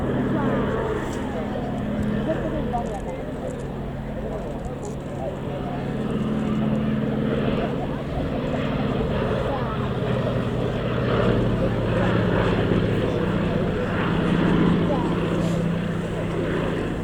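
A Fairey Swordfish biplane flies at an airshow, its propeller engine giving a steady droning hum throughout, with voices heard faintly beneath it.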